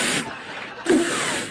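A man on a comedy stage imitates a fine mist spray with his voice, making two short breathy hissing bursts separated by a brief pause, close and moderately loud.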